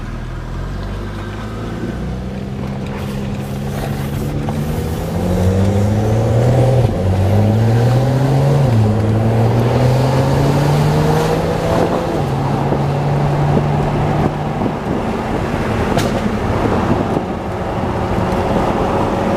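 A fast car's engine revs hard, its pitch climbing and dropping in repeated loud sweeps over a steady roar and wind noise, with no talking.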